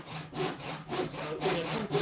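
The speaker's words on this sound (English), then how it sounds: "I'm not going to cut right up to the line, because I'll use a chisel to clean it up" A hand saw cuts through wood for a saw horse, rasping back-and-forth strokes in a quick steady rhythm, close and clear with no voices.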